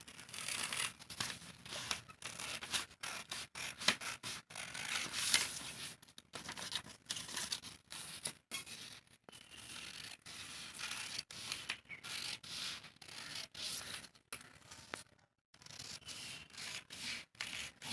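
Scissors slowly cutting the front piece of blouse fabric, a close, quiet run of rough snipping and rubbing strokes with short pauses and one clear gap, no talking.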